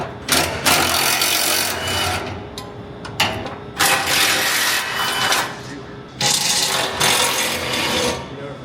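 A ratchet clicks in quick repeated bursts while loosening the fuel tank straps under a Ford, close and sharp, separated by short pauses, with someone speaking between them.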